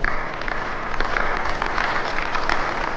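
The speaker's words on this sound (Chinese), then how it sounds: "全场一片掌声轰鸣" Applause from a whole audience at a diplomatic conference, a dense, steady roar of clapping that fills the scene continuously at close range.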